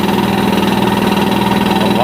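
An air compressor runs inside a garage, a loud, steady, throbbing mechanical drone with fast regular pulsing that continues without a break.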